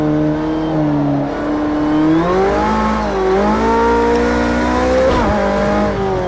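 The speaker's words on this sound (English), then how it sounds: "Look at that, third gear struggling for grip." Porsche 918 in Assetto Corsa, engine screaming loud and close in third gear, pitch sliding up and down as the tyres struggle for grip, with a brief squeal and shift near the end.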